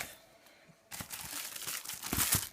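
Plastic document folders, one blue-and-white and one transparent, crinkling and rustling as they are handled, soft close crackles after a quiet start.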